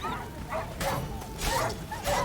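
Dogs in The Witcher 3 video game give short barks, yips and whimpers in repeated bursts, mixed in with a voice talking over them.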